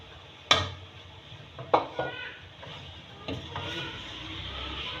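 Chopped tomatoes tossed into roasted spiced masala for tomato chutney, with a few sharp clatters of a spoon against the pan over a low, steady sizzle that grows slightly toward the end.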